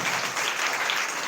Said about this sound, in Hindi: अपने आप को बोलो आमीन, जोरदार ताली बजा करना चाहिए